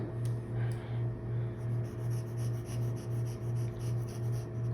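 A pencil drawing eyebrows on paper makes quiet, steady, rhythmic scratchy strokes close by, each stroke swelling and fading in a regular back-and-forth pattern.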